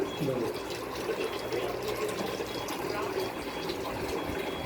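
Water runs steadily from a Kangen water ionizer machine outlet with a constant splashing hiss, while muffled voices talk faintly in the background.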